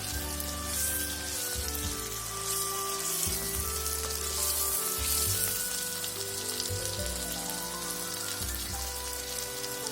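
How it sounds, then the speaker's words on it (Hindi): Chopped tomatoes frying in a pan for Punjabi masala chana dal, a dense hissing sizzle throughout, close and steady, with a humming tonal background droning beneath it and no speech. "अब चॉप किए हुए टमाटर को इसमें ऐड कर देंगे।"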